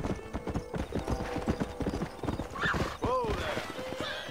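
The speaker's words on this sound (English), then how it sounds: "it's the horse" Horse hooves clip-clop at a steady galloping rhythm in the Red Dead Redemption Western video game, with a short whinny partway through and faint in-game voices underneath.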